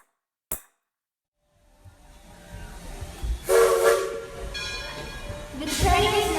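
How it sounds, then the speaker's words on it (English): A steam train pulls away in a sound effect: a sharp click, a building rumble, then bursts of loud hissing steam with a whistle-like tone that swell and fade twice. "The train is now leaving the interpretation station."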